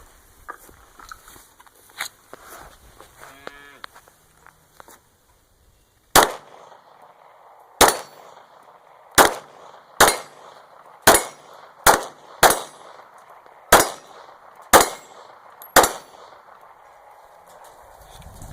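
Nine sharp gunshots from a Glock 26 Gen 4 compact 9mm pistol firing Federal 115 grain rounds at a target, spaced roughly a second apart and loud. Softer handling clicks and rustles come before the shooting starts.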